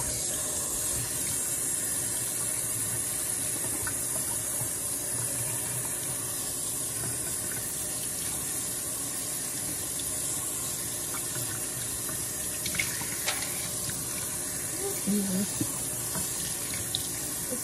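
Cold tap water runs continuously into a sink as hair is rinsed, a steady soft hiss and splash with faint shifts in flow near the end.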